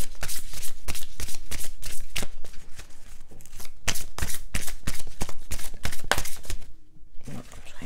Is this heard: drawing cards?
yes